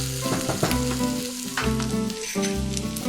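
Ginger garlic paste frying in hot oil, a loud close crackling sizzle with sharp spitting pops and a brief stir, steady throughout with no voices.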